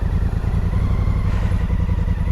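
A motorcycle ridden along a green lane, its engine a steady, loud rumble close by with rattling clatter from the rough track, continuous throughout with no talk.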